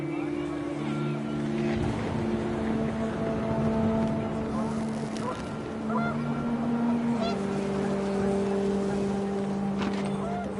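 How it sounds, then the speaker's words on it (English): Panicked geese honk in the video game What Remains of Edith Finch as wind picks up, a few short honks rising over a steady droning hum and windy outdoor noise, with a voice speaking over them. "The wind picked up, and panicked geese appeared and quickly went."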